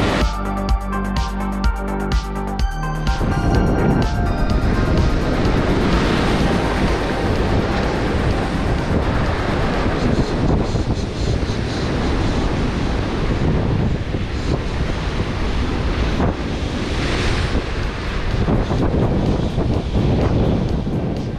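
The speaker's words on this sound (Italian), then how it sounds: "C'era forte vento laterale, grossa onda di fondo" Strong side wind and heavy swell on open sea during rough-weather bluefish fishing: a continuous loud roar of wind buffeting the microphone over surging, crashing waves, with no voices.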